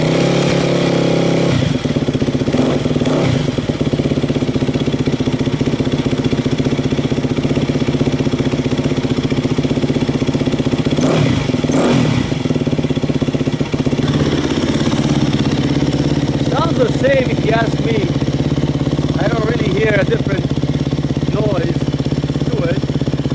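Dirt bike with a freshly repacked FMF Powercore 4 exhaust, running close by at a steady, throbbing idle with a few short throttle blips partway through.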